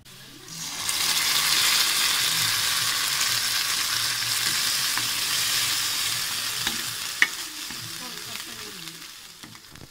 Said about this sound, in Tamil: வெண்டைக்காய் நல்லா வதங்கிட்டு இருக்கட்டும்